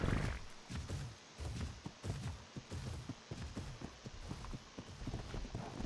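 A horse trots along in a video game, its hooves clip-clopping in a steady, even rhythm, fairly close and moderately loud, with no talking.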